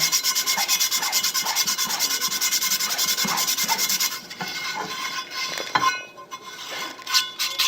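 Cloth wiping rust off the surface of a brake drum hub before resurfacing on a Hunter brake lathe; steady rubbing strokes, close and continuous for about four seconds, then lighter intermittent wipes.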